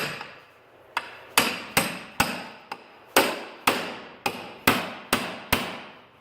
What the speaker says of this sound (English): you're going to might scuff up this aluminum a little bit with a pickle fork